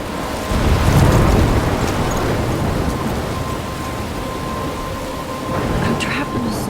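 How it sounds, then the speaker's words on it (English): A thunderstorm in the video game Life Is Strange, with a deep rumble of thunder rolling under steady heavy rain, loud and enveloping throughout, swelling again near the end. "I'm trapped in a storm?"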